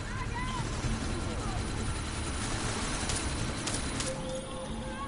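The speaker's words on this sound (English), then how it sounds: "That chopper's about to take off!" A helicopter in the video game Deus Ex: Mankind Divided thrums steadily as it prepares to take off, a continuous rotor drone mixed with game effects and background noise.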